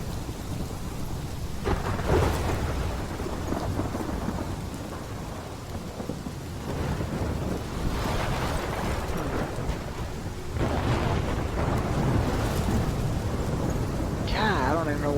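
Video game thunderstorm in Life is Strange, steady heavy rain hiss with several deep rolling thunder rumbles, loud and continuous throughout.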